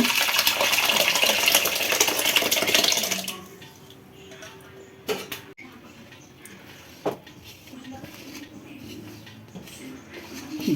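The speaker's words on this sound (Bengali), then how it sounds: "ছাঁকনির মাধ্যমে ছেঁকে নেব" Curdled chhena poured through a strainer for homemade rasgulla, a loud gush of draining whey for about three seconds, then quieter drips and a couple of sharp clinks of the strainer.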